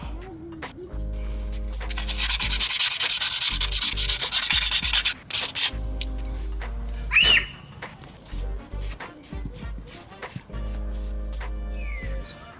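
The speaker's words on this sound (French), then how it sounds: "donc je vais nettoyer tout ça avant de mettre en place les élargisseurs" Abrasive scrubbing on corroded brake discs of a Jeep Cherokee XJ, one long loud rasping stretch followed by shorter intermittent rubbing strokes and a brief squeal, close up in a workshop.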